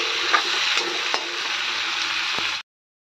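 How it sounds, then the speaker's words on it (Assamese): Meat sizzles loudly and steadily as it fries in a hot pan, with occasional scraping stirs, then the sound stops abruptly. "সেইখিনি এতিয়া ভাজি থাকিম আমি"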